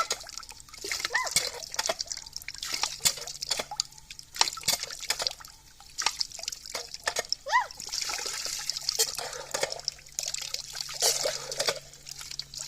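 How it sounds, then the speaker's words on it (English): Water trickles and splashes from a freshly re-driven shallow well pump in bursts of bright splashing, with children and adults talking close by and a dog present. "And there's water pumping."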